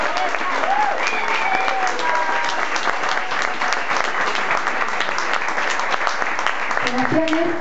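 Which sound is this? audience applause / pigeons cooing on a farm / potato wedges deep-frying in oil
audience applause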